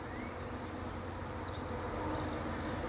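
A dense honeybee swarm hums steadily inside a swarm trap, a continuous close buzz of many gentle bees holding at an even level throughout, with no talking.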